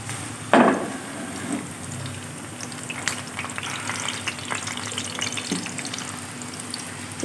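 Garlic fries and browns in a pan on a village dhaba stove, a steady close sizzle with a sharp clank of a utensil near the start and a few light stirring scrapes.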